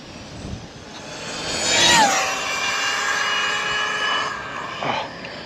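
An Arrma Typhon RC car, blacked out and running on 6S, screams past at high speed with a loud rising and falling motor whine close by, over outdoor background noise.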